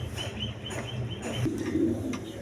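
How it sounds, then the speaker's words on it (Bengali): Giribaz high-flying pigeons coo softly in low, rounded phrases, a pair kept for sale, with a steady background murmur and faint chirps nearby. "দেখেন হাই ফ্লাইং গিরিবাস কবুতর"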